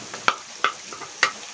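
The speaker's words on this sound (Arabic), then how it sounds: "فاضل خطوه واحده بس، ان انا هنزل هنا بالكبده" Chicken liver sizzles softly in a hot home-kitchen pan with sauce, and a utensil stirs and scrapes it in three or four quick strokes over a faint, steady frying hiss.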